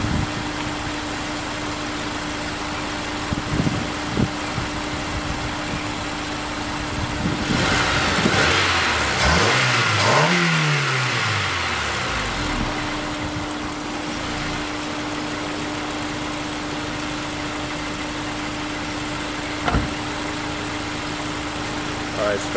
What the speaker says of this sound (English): I'm about to do a couple of revs for it, and so you can hear how it sounds with the normal engine.